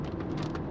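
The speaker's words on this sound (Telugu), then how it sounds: "సడన్గా వర్షం పెరుగుతుంది చూసారా" Heavy rain drums steadily on a car driving along a highway, giving a dense, loud, continuous patter with no voices.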